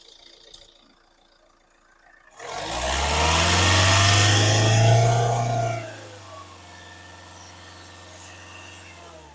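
A 2017 Hyundai i20 Magna diesel engine idles quietly, then revs up into a loud, steady drone for several seconds before dropping back to a smooth low idle.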